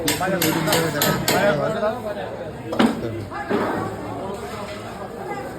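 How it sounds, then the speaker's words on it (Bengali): Heavy chopping blows on a 10 kg katla fish being cut into pieces, a quick series of sharp thuds early on and one more later, over loud talk and background chatter. "দশ কিলো দুশো ওজনের কাতলা মাছের এই যে একটা টুকরো একটা টুকরোতে দুটো পিস করা হচ্ছে"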